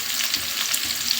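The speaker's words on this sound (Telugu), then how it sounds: "ఉల్లిపాయలు వేసుకుందాం, అలానే పచ్చిమిర్చి," Onions and green chillies frying in hot oil for a brinjal chicken curry, a steady close hiss of sizzling with light scraping from stirring, no voices.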